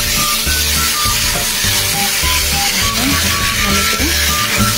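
Turmeric, coriander powder and ginger-garlic paste fry with potato, papaya and taro for a fish curry, giving a continuous loud sizzle over tonal background music.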